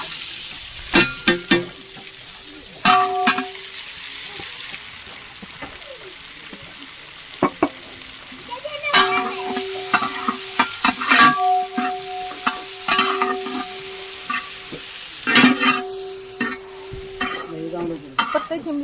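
Onion frying in a pan sizzles steadily, broken by repeated scraping stirs and sharp clinks of a utensil against the pan, loud and close.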